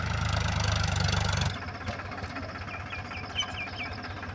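A farm tractor engine runs at idle, loud and steady with a low rumble for the first second and a half, then drops to a quieter, uneven putter with faint outdoor background.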